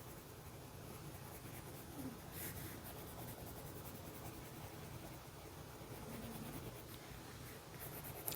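Quiet, continuous scratchy rubbing of a colored pencil shading across paper, a soft steady texture with no talking.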